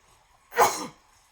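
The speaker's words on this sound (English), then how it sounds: "Oh, I think I'm about to sneeze." A single sharp sneeze, loud and close, breaking out of near silence.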